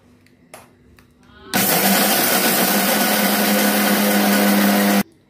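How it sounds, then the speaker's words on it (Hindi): A mixer grinder grinding peanuts, sesame and dried coconut roars to life and grinds steadily at full power for about three seconds, then cuts off abruptly. "हम इन सबको मिक्सी में थोड़ा पीस लेंगे"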